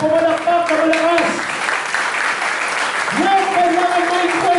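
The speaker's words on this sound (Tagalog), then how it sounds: "Pumalakpak na malakas." A church congregation claps loudly and continuously, a dense wash of applause under sustained singing or chanting voices.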